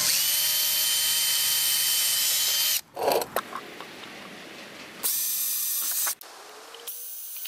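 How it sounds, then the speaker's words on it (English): A high-pitched drill with a 5/32-inch bit whines steadily for a few seconds boring into a cracked plastic canoe seat, stops, then runs again in a second burst, with brief clattering and handling noises between. "So I drilled those holes with a 5/32 drill bit"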